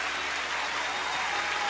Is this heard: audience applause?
yes